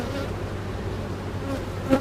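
Honeybees buzzing around a hive that has just swarmed, a continuous close droning hum with one brief louder bee passing near the end.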